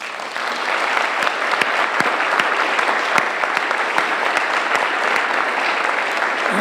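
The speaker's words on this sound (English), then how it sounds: "you clap for these people" An audience at a veterans appreciation event applauds, a dense, sustained clapping close by, steady and loud for several seconds with no talk over it.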